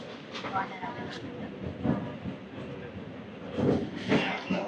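A DEMU express running from Renigunta to Nandyal near Nandulur rolls along the rails with a steady rumble and occasional clatter, heard from inside the train at moderate level. Passengers chat nearby.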